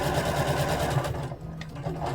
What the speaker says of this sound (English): And I'm going to sew to the bottom.